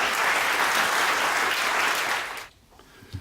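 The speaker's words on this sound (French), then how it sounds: "Encore un applaudissement à Chanel." A gala audience claps in steady, dense applause for about two and a half seconds before it quickly dies away into a quiet room.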